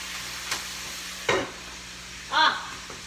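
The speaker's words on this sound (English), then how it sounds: "And stir it up." Pasta with lemon zest is stirred in a pan, giving a few brief scraping strokes over a low sizzle, close and without talk.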